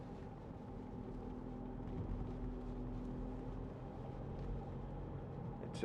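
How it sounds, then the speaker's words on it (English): A Skoda Yeti 2.0 TDI SE L 4WD diesel engine labouring uphill at low revs, a faint, steady low drone with road rumble heard from inside the cabin, with a soft knock near the end. "Love this diesel engine."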